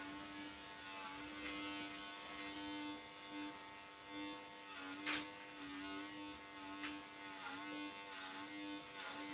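Electric clippers buzz continuously as they trim bulk from a doodle dog's coat during grooming, with a steady close hum and small bumps and clicks as the blades move through the fur.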